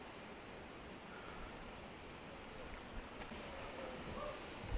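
The Hasan Boğuldu waterfall in the Kazdağları forest near Edremit, Balıkesir, gives a continuous, faint, even wash of falling water heard from a distance, with no voices.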